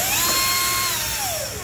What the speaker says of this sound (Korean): 집에 가정에서는 이런 공구 하나쯤 있는 거 전동 드릴이라고 하는데요